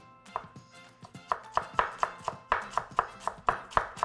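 Knife slicing fresh ginger into thin pieces on a cutting board, a rapid series of crisp, close chops in a steady rhythm. No one speaks.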